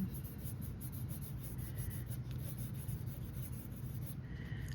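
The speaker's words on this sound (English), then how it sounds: "I'm just gonna go in with a light sketch" A pencil lightly sketching eyes on paper makes a soft, continuous scratchy whisper up close, faint and steady, over a low background hum with no speech.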